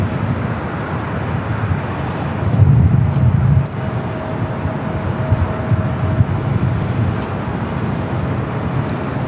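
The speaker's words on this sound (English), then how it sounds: "we got the Emirates A380 Super heading up for a north side at takeoff" An Emirates Airbus A380 taking off from LAX, a broad, loud jet roar that swells for a moment and then holds steady and rumbling throughout.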